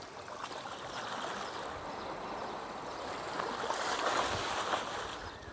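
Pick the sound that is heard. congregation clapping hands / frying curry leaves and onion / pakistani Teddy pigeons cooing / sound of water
sound of water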